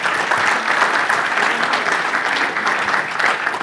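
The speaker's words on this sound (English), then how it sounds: "Make an applause for yourself" Audience applause at a NoSQL database case-study talk, a sustained, lively round of clapping from a room of listeners, even and close for the whole stretch.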